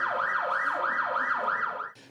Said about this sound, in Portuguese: os alto-falantes vão emitir mensagens ou alertas por sirene como essa